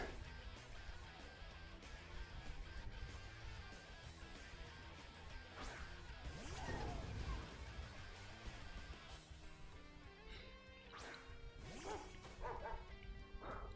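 A dog Pokémon cries out during a battle in Pokémon Scarlet, a yipping, barking call over dense game music and effects, with a few sharp crashes.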